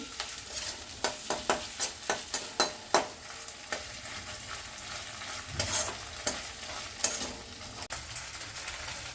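A ground ginger, garlic and pepper paste fries in a pan for mung dal with rohu fish head, a soft sizzle under frequent sharp clicks and scrapes of a spoon stirring.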